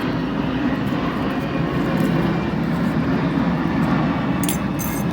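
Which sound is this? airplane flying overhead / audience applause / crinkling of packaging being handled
airplane flying overhead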